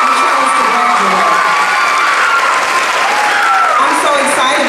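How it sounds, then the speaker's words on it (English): A large graduation audience at North Chicago High School applauds the graduating students in 2014, with dense, steady clapping mixed with cheers and shouts that fill the whole stretch loudly. "let's give them a round of applause"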